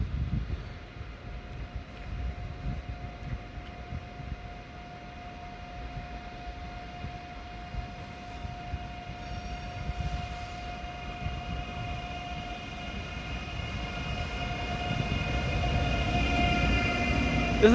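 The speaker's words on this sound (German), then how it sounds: "Das ist der ICE Montabaur als ICE 1002 nach Berlin-Gesundbrunnen." An ICE train, a first-series BR 403 running as ICE 1002 to Berlin-Gesundbrunnen, sits at München Hauptbahnhof with a steady electrical hum and a sustained tonal whine, a low rumble building slightly toward the end, no voices.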